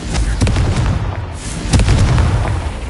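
Hogwarts Legacy Confringo spell explosions during combat, with several sharp booming blasts in quick succession over a dense rumbling game mix.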